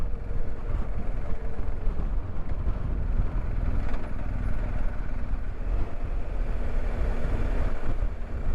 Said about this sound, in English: Yeah, it's very windy up here,